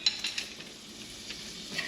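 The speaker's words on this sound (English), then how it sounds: "we are going to drop, this is what? 2 tablespoons of butter into that frying pan" Two tablespoons of salted Land O'Lakes butter sizzle softly as they melt in a frying pan, a faint, steady crackle with a few small clicks and no voices.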